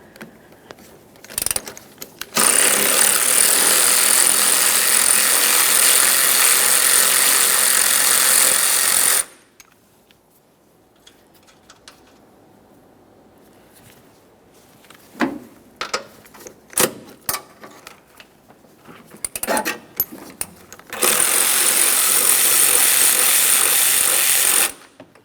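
Two loud bursts of a power tool spinning off 14mm strut nuts on a 2011-2020 Toyota Sienna 3.5L V6, each running steadily for several seconds, with clanks and scattered handling noises in between.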